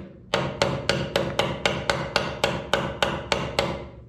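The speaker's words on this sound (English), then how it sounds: "I'm gonna hammer it in from this side" Steady hammer blows drive a starter bushing into a 1965 VW Beetle, about a dozen sharp metallic strikes at an even, brisk rhythm, close and loud with no talking.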